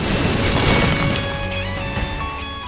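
Bombs exploding in the video game Binding of Isaac: Rebirth, a loud booming crash followed by ringing tones and game music that fade slowly.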